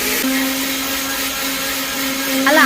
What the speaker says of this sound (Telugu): నేను పాప్కార్న్ మిక్సీ చేసుకుంటున్నాను